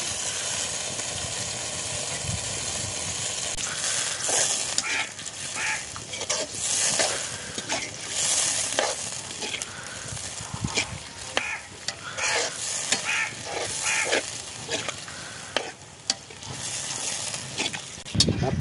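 Goat blood frying in an oiled pan, a steady hiss and sizzle with frequent scraping and stirring strokes, close and moderately loud throughout.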